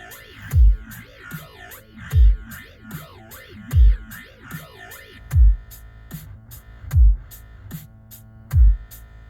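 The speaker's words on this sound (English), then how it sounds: "So modulation amount will go in and out, and it'll switch between oscillators" Synth patch in FL Mobile whose modulation sweeps back and forth between Dirt and Beast oscillators, giving a wobbling, morphing tone over six evenly spaced deep bass thumps, with no talking.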